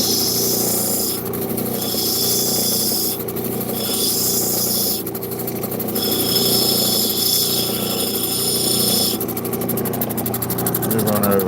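Stone being ground on a lapidary wheel to put a bevel on its bottom edge, a steady machine whir with bursts of high rasping as the stone presses on, continuous and fairly loud.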